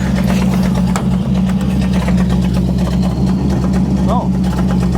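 A 1966 Ford Ranchero idles through its exhaust with a steady, loud, close low rumble that holds an even pitch throughout, while voices talk faintly over it.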